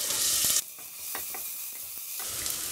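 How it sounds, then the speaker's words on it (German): Loud hissing sizzle of onions frying in hot fat, with a brief quieter stretch of scraping stirs before the sizzle swells again. "als erstes werden wir Zwiebel anbraten"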